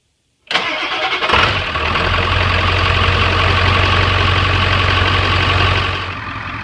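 A 1994–97 Ford truck with a 7.3 Powerstroke diesel engine cranks briefly, catches, and settles into a loud, steady, rumbling idle close by that runs for several seconds before easing slightly, with no speech.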